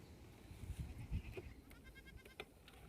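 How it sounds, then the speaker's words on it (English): A goat bleats in a short, wavering call near the end, preceded by a few soft thumps and rustles in an otherwise quiet space. "Sometimes during the day, she calls out as if another goat is baaing for her"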